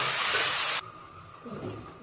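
Fenugreek mixture fries in hot oil, a loud bright sizzle that cuts off abruptly, leaving a faint quiet background with a brief soft hiss afterward.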